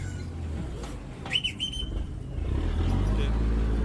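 A man at a boat dock blows a whistle. Several short, shrill blasts sound over engine rumble and background voices, and the motor grows louder afterward.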